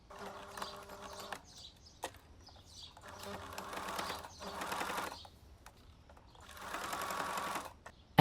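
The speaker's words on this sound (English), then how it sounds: "I'll sew to create a channel" A sewing machine stitching a hem channel on a polar fleece jacket cuff, several bursts of rapid, close mechanical whirring separated by short pauses and clicks, with no talk.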